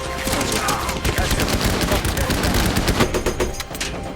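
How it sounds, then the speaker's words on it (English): Rapid machine-gun and rifle fire crackles continuously in a Fury war movie battle scene, dense overlapping bursts loud and close, with shouting voices mixed in. "Hey, start shooting!"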